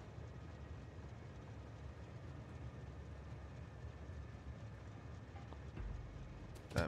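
A steady low rumbling drone from a train rolls through a Factorio game world, continuous and moderately quiet, with a brief swell and a sharp click near the end.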